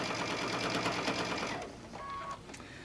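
A sewing machine stitches a reading book pillow, running in a steady loud whir for about a second and a half, then dropping to a quieter, uneven hum with a few brief higher tones.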